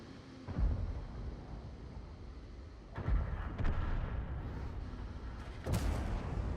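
Several heavy booming tank gun blasts in a video game, loud and close, separated by a few seconds, with a rumbling battle din continuing underneath.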